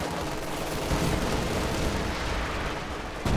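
Fuel cache burning and being destroyed in Company of Heroes 2, a dense, continuous roar of fire and rumbling blasts with crackling bursts, loud and sustained throughout without a break.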